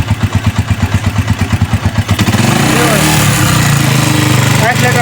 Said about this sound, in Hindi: अब स्टार्ट करो भाई, स्टार्ट करो। एक्सीलेटर भी दो, एक्सीलेटर दो